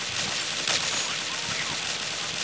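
Sustained automatic M4A1 rifle fire in a shooting video game, loud and continuous bursts of shots with no pause over the whole stretch.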